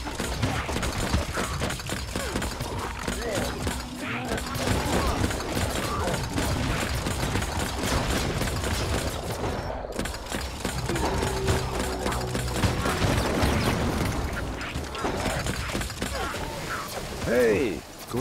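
Rapid gunfire from a video game rattles through a dense, continuous wall of in-game noise and clatter, with someone talking over the action.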